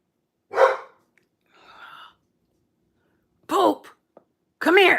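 A female dog barks in short separate bursts at night, a sharp yelp near the start and two louder barks toward the end, with a soft sigh-like breath between them and quiet gaps in between.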